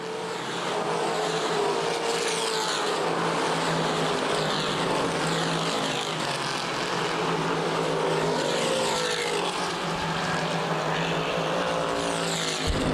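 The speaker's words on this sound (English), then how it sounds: "11 laps complete, and Lane is quickly closing on the leader." Roaring street stock car engines fill the air continuously at Winchester Speedway, a dense, loud drone of cars circling the oval track with no break.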